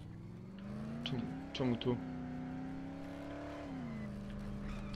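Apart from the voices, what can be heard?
car driving in the video game Dead Island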